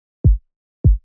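Two deep, booming synthesized kick drum hits built in Kick 2 with no processing, each a short low thump with a quick pitch drop, spaced about 0.6 seconds apart and played alone.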